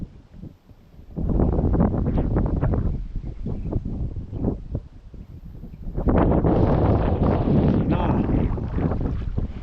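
Wind gusts across the microphone beside a river during fly fishing, two long rumbling bursts of buffeting noise separated by a calmer spell, loud and close.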